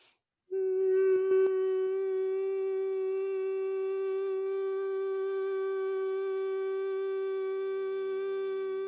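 A person hums a single steady, higher-pitched tone on the breath during chakra meditation, sustained and even for several seconds after a brief start.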